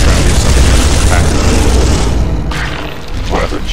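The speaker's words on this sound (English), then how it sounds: "Still got plenty of other bolter fire." Bolter gunfire from the Space Hulk video game: a dense, loud, continuous roar of booming shots for over two seconds, then a slightly softer rumble with scattered bursts, with a voice talking over it.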